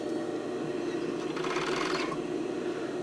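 Sewing machine stitching fabric for a tankini sports bra runs with a steady, even mechanical whir, briefly speeding up in a faster buzzing burst midway, close and fairly quiet.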